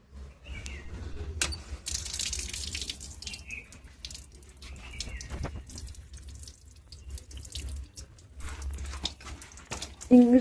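Tap water runs steadily as an object is rinsed and washed under a faucet, with splashing and drips and a loud clatter near the end.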